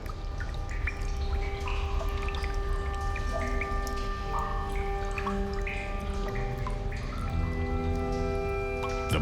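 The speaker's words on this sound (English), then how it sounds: "The mountain water itself does the actual extraction, washing the salt out of the stone." Mountain water trickles and drips steadily through salt rock, a continuous close wash of droplets and small pours with bright ringing drips scattered across it.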